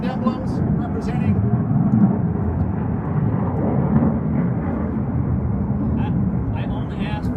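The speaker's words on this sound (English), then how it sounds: "I only asked for one flyby." An Air Force aircraft flyby at a retirement ceremony makes a low, broad engine roar that swells and holds throughout, heard outdoors with faint chirps.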